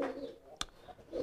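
A pigeon kept in a loft coos low and softly at the start and again at the end. A single sharp click breaks in midway.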